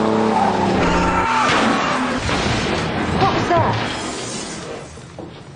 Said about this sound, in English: Eli just crashed his car into the front of the house.